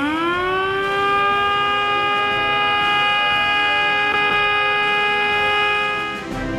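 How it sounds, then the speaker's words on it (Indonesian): A civil defense siren sounds at an Indonesian Independence Day ceremony in Gorontalo, a loud, sustained wail that rises at the start, holds a steady pitch for several seconds and dips slightly near the end, heard alone. "Peringatan detik-detik proklamasi diawali dengan membunyikan sirine."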